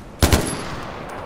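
Two quick loud gunshots in the video game Far Cry 4, fired in close succession and followed by a short fading echo, with no talk.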